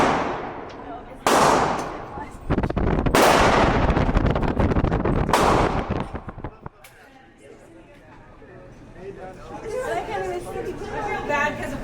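Gunshots fired at an indoor gun range: three loud, sharp blasts spaced about two seconds apart with ringing tails, followed by quieter chatter and voices talking nearby.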